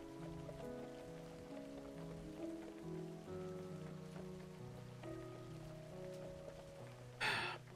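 Rain falls steadily in the video game A Story Beside, a soft continuous patter beneath gentle melodic music, with a brief louder rushing burst near the end.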